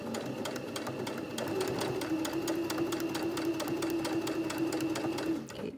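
A sewing machine stitches a skirt waistband at a steady, moderate pace, giving a continuous whirring hum with quick, even needle clatter from start to finish before slowing to a stop.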